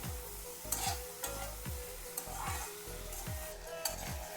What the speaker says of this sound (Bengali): একটু নাড়াচাড়া করে নিই আগে।